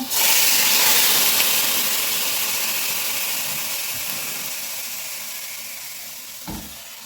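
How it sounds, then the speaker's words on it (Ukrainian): Boneless, skinless chicken thigh pieces hit a preheated pan and set off a loud, steady hiss that starts abruptly and fades slowly over several seconds, with a brief clatter near the end. "розігріту сковорідку. Викладаю м'ясо."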